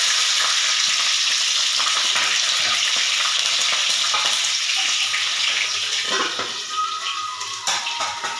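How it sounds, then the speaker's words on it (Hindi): Cumin, garlic and chili sizzle and crackle loudly in hot oil for a curry, a steady close frying hiss that persists throughout and eases slightly near the end, with no voices. "सब्जी के भी तेल गरम हो गए हैं, तो मैं सब्जी बनाए चालू करत हूँ। जीरा डालेंगे हैं और ये लहसुन मिर्च"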